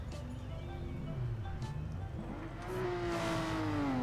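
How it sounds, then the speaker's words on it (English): Race car engine in GT Sport at the Spa circuit, a distant whine that rises in pitch toward the end as the car accelerates, fairly faint and steady, with no voices. "Ooh, I can hear your car."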